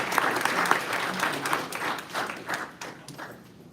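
Another round of applause at a congressional briefing on gun violence honours the Congresswoman, a room of hands clapping firmly at first and then gradually thinning and fading away.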